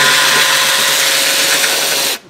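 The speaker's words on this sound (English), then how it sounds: "Now my other friend today is the Milwaukee Ratchet. So down here on the front of the airbox," A Milwaukee power ratchet spins a nut off the front of the airbox in a 2022+ Ford Ranger/Everest engine bay, a loud, close, continuous whirring buzz for about two seconds before cutting off.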